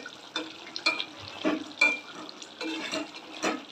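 Fish, hilsa, simmering in a pot, with a steady bubbling and hissing boil broken by a few louder splashing bursts, close by and with no voices.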